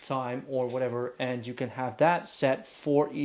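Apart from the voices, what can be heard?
No distinct noise like a dog, phone or traffic.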